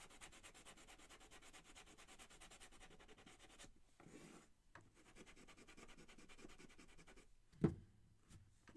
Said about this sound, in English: Sand the green.